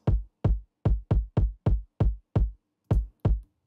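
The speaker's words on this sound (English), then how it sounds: "I think this could use a trappy subby kick." Ten deep, booming sub kick hits with sharp attacks and short low tails, played alone in an uneven rhythmic pattern.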